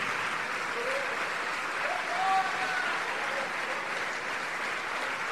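A church congregation applauds steadily at a moderate distance, a soft, even wash of clapping sustained throughout with no break.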